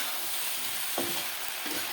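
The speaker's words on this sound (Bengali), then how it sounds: "লাইটটা দিয়ে এই যা সবজিটাকে ভালো করে কষাবো" Vegetables stir-fry in a pan with a constant hissing sizzle, briefly roughened by a soft scrape of stirring. No talking.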